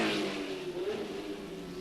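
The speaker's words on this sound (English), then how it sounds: "to listen to the roars of the revved-up engines" Racing car engines revving at a distance at the 1968 Hockenheim race, a faint, rough mechanical roar that swells and holds over steady background noise.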